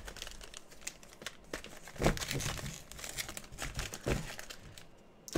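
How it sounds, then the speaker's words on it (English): Sealed foil trading card packs being shuffled by hand, a continuous close crinkling and rustling of wrappers with a few sharper crackles, no talking. "Let me mix these up real quick. Shuffle these packs."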